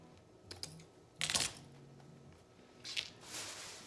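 Scissors cut pieces of ribbon for a lantern bow topper, giving a few faint, brief snips spaced apart in a quiet room.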